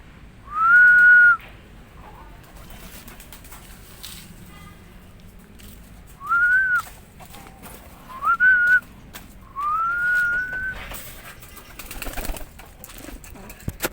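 Pigeons giving several short, rising whistle-like calls, four separate bursts spread over quiet gaps, fairly close against a faint background.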